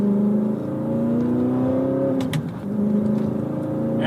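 A car engine hums steadily at close range with smooth, rising and falling tones, briefly dipping mid-clip as if shifting gears.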